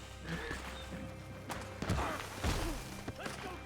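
Horse hooves clop on the ground in Red Dead Online, a few irregular thudding steps with a snort, mid-distance under game ambience and faint talk.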